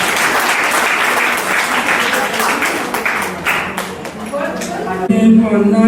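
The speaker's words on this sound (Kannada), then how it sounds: "ಅವರಿಗೆ ಚಪ್ಪಾಳೆಯೊಂದಿಗೆ ಮನಪೂರ್ವಕ ಸ್ವಾಗತ." An audience at a yoga centre's first anniversary event applauds to welcome a singer, with dense sustained clapping that fades out as a voice takes over near the end.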